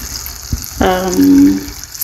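Water pours and gushes into a cooking pot while pork sinigang is being made in a home kitchen, a short splashing stream lasting about a second, close and moderately loud.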